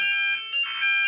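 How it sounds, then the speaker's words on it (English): Fire alarm sounder going off during a test, a loud continuous electronic tone with steady high harmonics that dips briefly and swells again, with no talking. "I like alarms."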